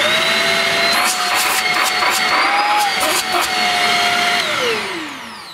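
Shark Rocket lightweight handheld vacuum cleaner running, a loud close whine with a steady motor tone that wavers slightly, then drops in pitch as it winds down at the end.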